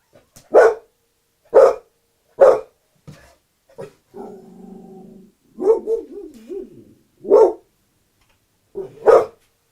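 A dog barks in short, loud, evenly spaced single barks, with a whimpering whine and a wavering yip-like vocalization in the middle, heard up close in a quiet room.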